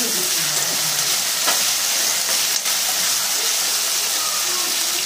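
Tomato pieces sprinkled with salt frying in a pan give a loud, dense and continuous sizzle with a faint hiss of steam, heard alone without talk.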